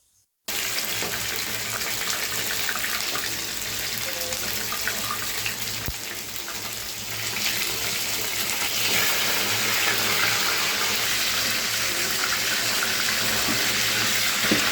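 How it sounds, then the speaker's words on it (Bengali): Chicken pieces deep-frying in hot oil for fried chicken, a steady dense sizzle that holds loud and continuous throughout with no talk over it. "আর এরই মাঝে আমি চিকেনগুলোকে ভেজে নিচ্ছি।"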